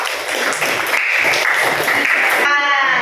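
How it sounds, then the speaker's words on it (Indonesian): A classroom of students claps together for a classmate, a dense, steady patter of many hands that fills the space for about two and a half seconds before cutting off into a voice. "Kasih tepuk tangan buat Afif."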